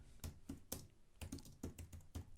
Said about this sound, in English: And I type something here a little bit longer.